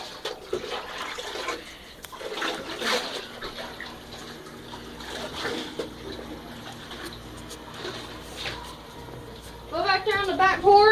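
Water running and splashing as soap is rinsed off a dog during its first bath, a steady wash under frequent talking, with a voice and livelier splashing near the end.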